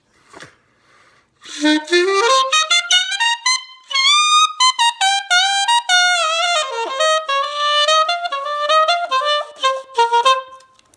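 Smooth jazz saxophone plays a solo melody alone, with flowing legato phrases, bends and sustained notes over about nine seconds after a brief quiet breath at the start.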